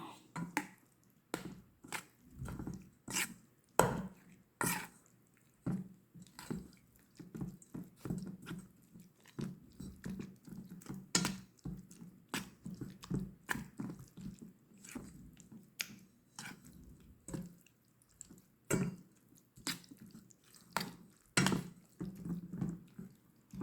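Ukoy fritter batter of flour and cornstarch mixed by hand, giving soft wet squishing and sloshing in an uneven, continuous rhythm at close range.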